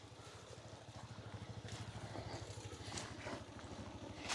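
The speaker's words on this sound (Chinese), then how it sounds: "是哦，裡面有摩托車聲音。" A motorcycle engine putters with a steady low throb, faint and fairly distant, slowly growing a little louder.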